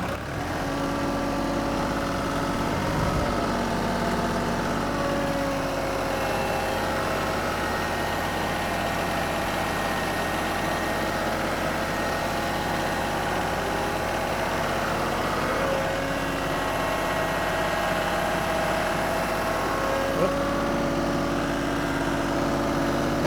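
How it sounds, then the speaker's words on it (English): A tractor engine dropped into low range and throttled up on a farm job moving stinking waste, a steady loud mid-pitched drone with a faint whine that holds throughout, no talk over it. "I'm going to go down to low range and throttle it up."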